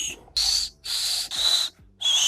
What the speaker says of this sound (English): This is fingerless whistle.